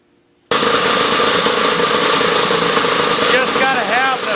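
A free 1969 Sno Jet snowmobile engine roars steadily right after its first start, a loud, close, rough two-stroke drone that holds constant for several seconds with a few high squeaks near the end.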